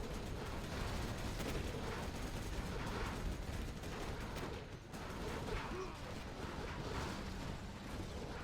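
Dense rattling Gatling tank fire and explosions from a Generals Zero Hour tournament match, a sustained barrage of rapid shots with battle noise throughout, mixed with commentary.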